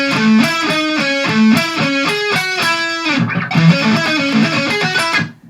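A distorted electric guitar plays a fast solo lick as a quick run of sustained, saturated notes, loud and close, with no talking.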